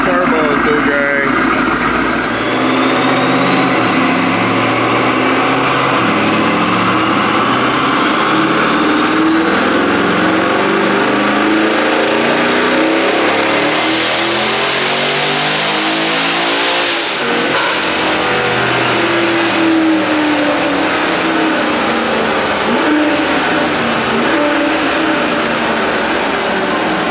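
A built twin-turbo Dodge Hellcat engine revs hard and loud up close, rising and falling repeatedly with turbo whine sweeping upward, while a voice talks over it.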